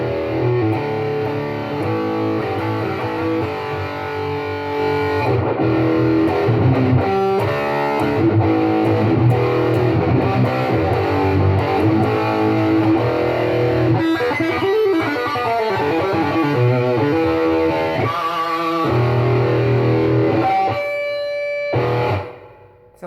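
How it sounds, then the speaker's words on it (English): Electric guitar strung with Dunlop Reverend Willy 7-38 strings and played through a distortion sound, a loud, continuous stretch of thick overdriven chords and riffs with no talking, cutting off at the very end. "distortion sound, why not?"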